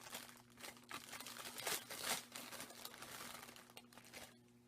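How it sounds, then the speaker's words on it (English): A crinkly plastic bag being handled, giving soft rustling and crackling crinkles in uneven bursts, close but fairly quiet, fading out at the end. "grab the crinkly bag"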